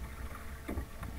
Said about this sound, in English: Always paddle through my tacks.